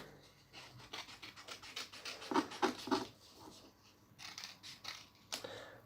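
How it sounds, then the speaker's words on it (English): Scissors trimming a craft suncatcher give soft, close snipping and rustling cuts, quiet and irregular, with a few crisper clipped snips in a short run midway. "So if I just trim around a little bit more."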